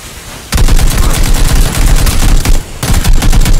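Rapid automatic gunfire from a shooter video game, loud bursts after a short quiet start, with a brief pause before another burst.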